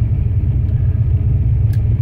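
A turbocharged Ford Mustang engine idles with a steady, strong low rumble, loud and close, running evenly and alone with no voices.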